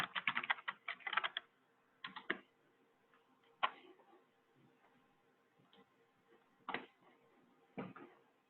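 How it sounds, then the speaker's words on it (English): Fingers tapping a computer keyboard in short bursts of keystrokes, separated by pauses with a few isolated clicks, fairly faint and close with no talking. "I can't type today."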